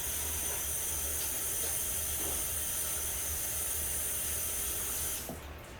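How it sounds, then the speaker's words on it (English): Water from a kitchen tap runs steadily while hands are washed, a broad continuous rush with faint splashes that cuts off near the end, close and alone. "Let me wash my hands."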